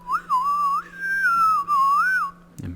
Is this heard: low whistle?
yes